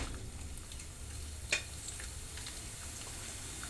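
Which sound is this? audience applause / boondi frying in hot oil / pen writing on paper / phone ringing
boondi frying in hot oil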